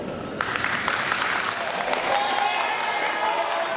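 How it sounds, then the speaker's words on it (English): Graduating students and their audience break into applause at a season finale gathering, clapping swelling in after a brief pause and continuing steadily, with a few cheers and voices mixed in. "Give yourself a round of applause."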